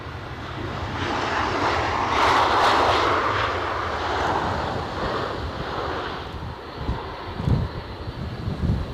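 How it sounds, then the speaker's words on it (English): A Delta airliner comes in to land in gusty wind at Edinburgh Airport, its engine roar swelling to a peak early on and then easing under continuous wind buffeting, with a few low thumps near the end and no voices. "I thought the inbound Delta was doing a bit of a wobble"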